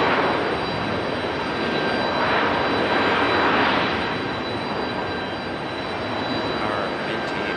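Icelandair jet airliner at Raleigh-Durham International Airport, a continuous broad engine roar with a steady whine on top, fairly loud and distant, swelling slightly mid-way then easing, heard from a parking garage with no talk.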